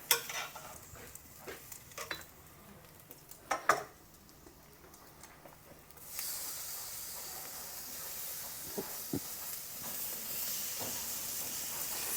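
Meat sizzles on a Weber Q barbecue grill: scattered clicks and handling noises at first, then a steady, fairly loud broadband hiss that holds for the second half.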